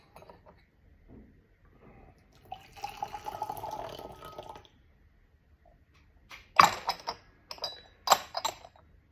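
Hot water poured into a porcelain gaiwan to warm it before brewing Pu'erh tea, a soft trickling pour followed by a few sharp clinks of lid and cup, quiet and close, without talk.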